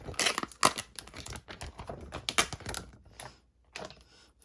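Packaging film is peeled back from a Samsung Galaxy Fold, heard as a quick run of close, crisp crinkles and tearing snaps with short quiet gaps between them.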